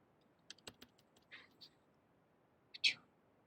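A few quiet keyboard keystrokes click irregularly in a quiet room, with a slightly louder tap or two near the end.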